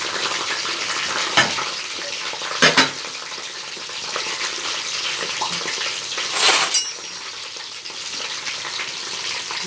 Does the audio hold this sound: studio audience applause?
no